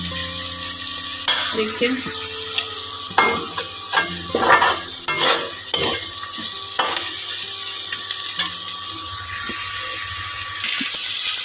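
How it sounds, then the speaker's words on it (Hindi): Potatoes frying in a pan, a steady close sizzle with bursts of stirring and scraping, while someone speaks briefly over the cooking. "इधर देखिए मेरा आलू फ्राई हो रहा है।"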